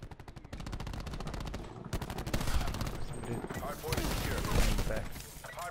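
Rapid automatic fire rattles through a first-person shooter match in fast, regular bursts, loud and close, overlapping with other shots and explosions as a player talks over the action.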